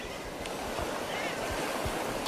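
A murre chick drops onto the open sea amid steady surf and wind noise, its splashdown buried in the continuous roar of waves rather than standing out as a distinct splash.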